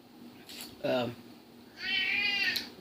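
A cat meows twice nearby, a short low cry followed by a longer, higher-pitched wail, with faint background hum between calls.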